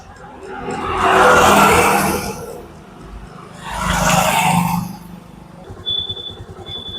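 A Honda Activa scooter, freshly fitted with a new rear wheel bearing, revs in two swelling bursts of engine roar, each rising and fading, with a quieter idle between and a faint high tone near the end.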